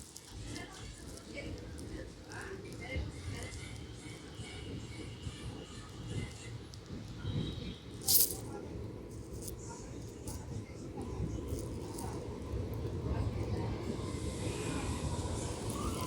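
A Bidar superfast express train slowing for a stop at Begumpet station, heard from inside as a continuous low rumble and rattle of the carriage with a brief metallic clank midway.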